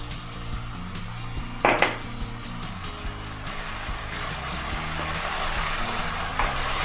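Chopped onions with salt sizzle and fry steadily in a pan for homemade pizza sauce, a continuous close crackle with a brief louder burst of stirring or clatter near the start.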